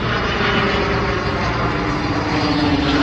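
A loud aircraft engine roars steadily overhead near Shafter, north of Bakersfield, a continuous low drone with a faint whine that holds strong throughout.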